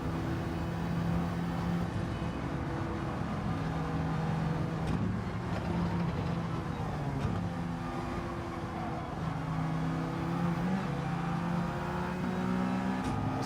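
Alfa Romeo 4C race car engine in Gran Turismo 7 Gr.4 lobby racing, a steady droning hum with layered harmonics that holds at near-constant loudness, rising and falling gently with the throttle, with no talk.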